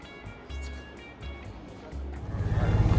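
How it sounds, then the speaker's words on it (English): Century-old Ford Model T on a ride around Greenfield Village, a low engine chugging in uneven pulses that grows louder and rougher toward the end, with faint wind and road noise. "Now we're gonna ride the Model T, tour around the area."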